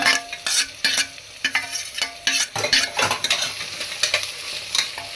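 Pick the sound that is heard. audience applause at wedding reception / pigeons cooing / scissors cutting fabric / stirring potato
stirring potato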